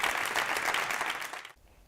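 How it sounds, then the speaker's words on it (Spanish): Dense, steady applause fills a parliamentary chamber as fellow members of the Cortes give a unanimous ovation, then breaks off abruptly near the end. "la ovación de sus compañeros fue unánime"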